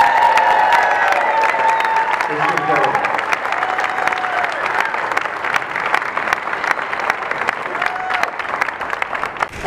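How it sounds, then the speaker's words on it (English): A large crowd applauds for the mayor's birthday, with sustained dense clapping and scattered cheers filling the hall while voices call out underneath. "Ladies and gentlemen, please put your hands together for Mayor Eric's birthday."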